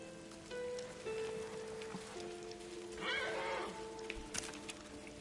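Rain in the Ghost of Tsushima video game falls as a steady hiss across the scene, mixed with game music, a horse's whinny and hoofbeats.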